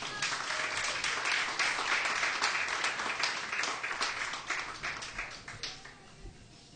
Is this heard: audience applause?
yes